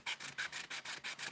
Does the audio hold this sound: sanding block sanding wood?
yes